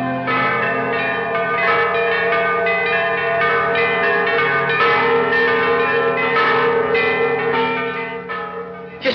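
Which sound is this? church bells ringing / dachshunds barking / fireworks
church bells ringing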